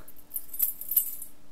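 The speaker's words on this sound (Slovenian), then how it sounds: "Ključi." Keys jangling in a binaural recording, a few light metallic shakes and clinks, fairly quiet and close against a near-silent background.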